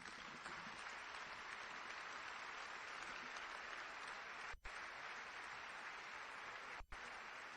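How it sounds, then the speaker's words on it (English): Audience applause fills a large event room after a speaker is introduced at the Detroit Economic Club, steady and dense throughout with two brief dips, no talking over it. "Please join me in welcoming John Ricolter"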